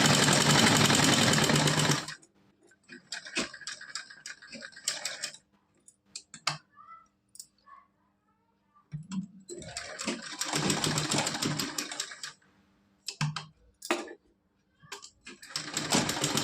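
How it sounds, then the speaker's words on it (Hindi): A sewing machine runs in bursts, stitching a straight seam on a cotton Laddu Gopal dress, loud whirring runs separated by pauses, handling noises and someone talking in between. "तो अब हम इस पे सिलाई लगा के दिखा रहे हैं। इस तरह से हम सिलाई को पूरी सीधी लगा लेंगे।"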